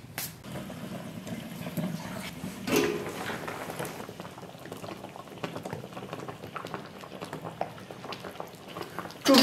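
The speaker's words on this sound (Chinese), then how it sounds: "盖上锅盖，把猪皮和耳朵先煮熟。" Pork skin and pig ears boil in a covered pot of stock with bay leaves and tsaoko, giving a steady close bubbling and popping that runs the whole stretch, with a brief louder burst early on and again at the end.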